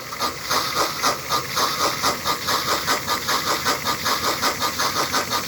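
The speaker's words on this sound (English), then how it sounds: "we are sitting here at 20 miles an hour with a chuff and a puff" A model steam locomotive chuffs in a quick, even rhythm of puffs, with each beat sharp and close and the pace holding steady across the stretch.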